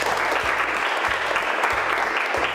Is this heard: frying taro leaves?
no